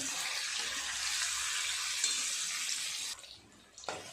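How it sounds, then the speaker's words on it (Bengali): Steady, dense sizzling and crackling of cauliflower fritters deep frying in hot oil, continuous and fairly loud, dropping away briefly near the end. "উল্টে অপর পিঠটা ভালো করে ভেজে নেব"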